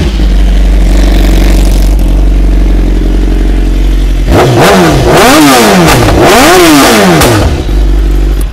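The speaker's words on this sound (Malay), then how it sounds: "Jom kita start tengok S1000RR Aero exhaust bunyi dia macam mana." A 2011 BMW S1000RR motorcycle with an Aero exhaust idles loudly and steadily up close, then erupts into a series of sharp throttle blips: about four rising-and-falling revs in quick succession, with no talking.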